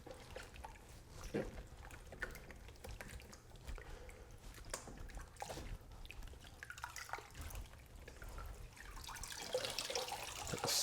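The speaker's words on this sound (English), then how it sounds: "the water that we're using right now is going to wash it right off the feathers" Tap water runs and drips over a wood duck carcass being washed during taxidermy preparation, a low, steady patter of splashing with brief drips, joined by faint indoor talk.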